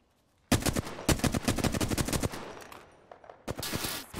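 Rapid automatic gunfire in Apex Legends, a long sharp burst of closely spaced shots that trails off, then a brief pause and a further burst near the end.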